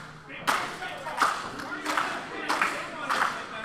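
Wrestling fans clap in a rhythmic beat for Benny Slater during his match with Derek Hill, five or six even claps spaced about a second apart under the arena noise.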